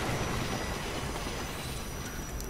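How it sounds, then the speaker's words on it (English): Passing train in the video game Assassin's Creed Unity, set in 19th-century Paris: a steady, loud broadband rumble of rolling wagons with faint high squeal, continuous and close throughout. "we have to run from this train"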